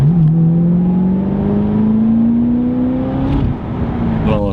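A Chevrolet Corvette Z06 drives with a steady engine drone whose pitch climbs slowly as it pulls, then dips briefly before settling again, loud and close throughout.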